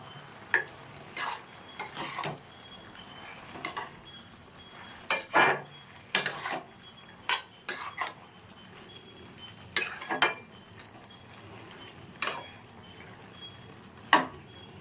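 A spoon clinks and scrapes against a metal pan while salt and turmeric are mixed into a pumpkin and spinach curry, giving irregular close knocks and taps spread over the whole stretch.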